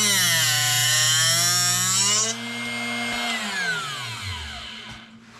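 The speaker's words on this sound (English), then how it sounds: "You basically do this until it stops making the grinding sound." A drill bit sharpener set to 118 degrees grinds a small drill bit, giving a loud, steady high whine with rising harmonics that drops away after about two seconds, then a lower motor tone that winds down and fades to quiet.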